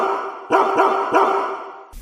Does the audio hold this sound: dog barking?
yes